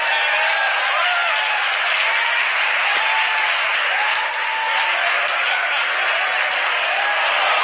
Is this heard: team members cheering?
yes